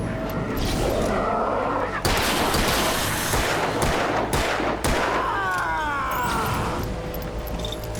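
Loud gunshots in Alan Wake, a few heavy booming shots spaced seconds apart over dense rumbling game noise, with sharp transients cutting through the mix.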